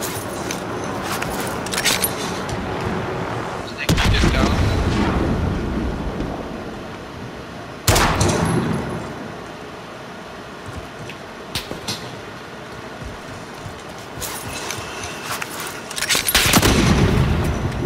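Heavy gunfire in Call of Duty: Modern Warfare multiplayer, with loud close bursts and booming shots striking at intervals over a constant rumble of battlefield noise and wind.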